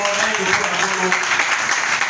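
A church congregation applauding, a dense continuous wash of clapping heard close, with voices mixed in.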